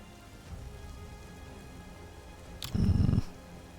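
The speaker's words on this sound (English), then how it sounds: "acid that is falling suddenly slows, and balls of hail begin to fall" Rain and balls of hail fall in a steady, soft patter, then a louder, dense burst of impacts swells briefly near the end before easing back.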